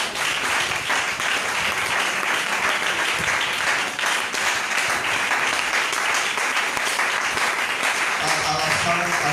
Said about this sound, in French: Ok, acclamez pour nos deux frères qui viennent d'arriver.